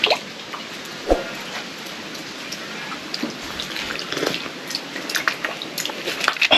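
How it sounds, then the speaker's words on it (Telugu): Water drops falling from above at Udayagiri fort, scattered sharp drips and splashes at an irregular rhythm over a constant faint hiss, fairly close. "పైనుంచి డ్రాప్స్ పడుతున్నాయి పైనుంచి"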